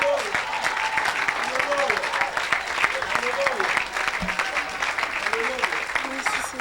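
A church congregation applauding and cheering after a healing at a revival service, steady dense clapping throughout with a voice calling out over it.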